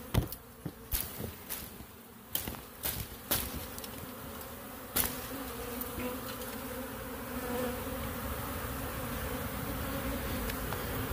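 Swarm of honey bees buzzing thickly around a branch, a dense continuous drone with sharp louder passes of individual bees close by early on, then settling into a steady, fairly loud hum.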